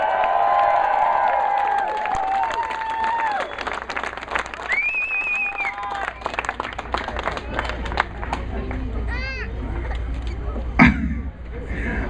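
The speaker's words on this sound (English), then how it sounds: "Can we get a round of applause for America up in here?" A crowd at the World Slugburger Eating Championship breaks into applause and cheering, with clapping, whoops and whistles over lingering music, loud and lively, then scattered claps and shouts trailing off.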